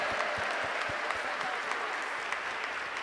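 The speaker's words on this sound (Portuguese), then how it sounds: "Então dá uma grande salva de palmas para Jesus." A church congregation bursts into sustained applause, with dense, even clapping from many hands filling the room at a steady level.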